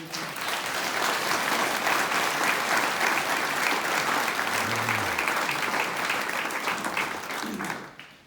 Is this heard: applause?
yes